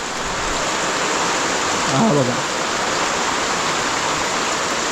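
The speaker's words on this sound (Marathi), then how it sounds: "आता पाऊस आला आहे मस्त तुफान पाऊस" Stormy monsoon downpour pouring steadily, a dense, even roar of rain that stays loud throughout, with a brief spoken remark partway through.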